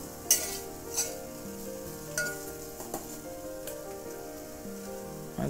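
Onion and chili spice mixture frying in a pan, a steady sizzle under intermittent stirring scrapes and light taps of the spoon against the pan, close and moderately loud with no voices.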